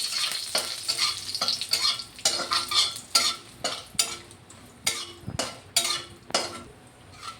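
Bay leaves, garam masala and cardamom fry in hot oil for a chicken curry, crackling steadily while a utensil scrapes and knocks against the pan in a rhythmic series of stirring strokes.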